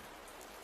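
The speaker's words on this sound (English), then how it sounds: "The rain outside, softly falling, steady, unchanging, without end." Rain falls steadily outside, a dense, even hiss of drops with no gaps, faint and unbroken for the whole moment.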